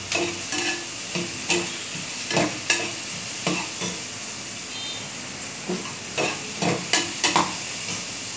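Cauliflower pieces and vegetables frying in a pan, with a continuous hiss of hot oil and intermittent scraping stirs of a spatula at close range, no voices.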